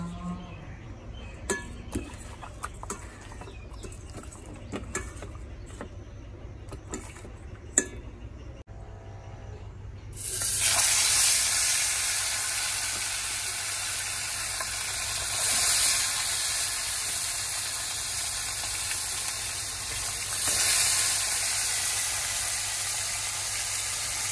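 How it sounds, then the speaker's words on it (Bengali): Fish frying crisp in a pan on a home stove: quiet clinks and taps first, then a loud, steady, close sizzling hiss bursts in and keeps going, swelling a little now and then. "মাছ ভাজা হয়ে গেছে"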